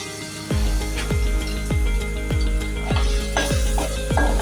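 Tomato sautés in hot oil for a surmai fish masala, sizzling loudly and close while a spoon strikes the pan in a regular rhythm of about seven sharp clanks.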